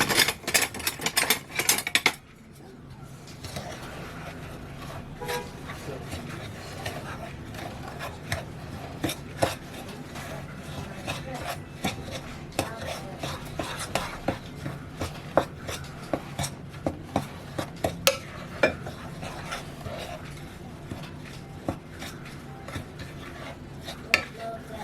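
Dry muffin ingredients, including freshly milled flour, are stirred together in a bowl, giving a continuous close rasping and scraping with occasional light clinks of the utensil.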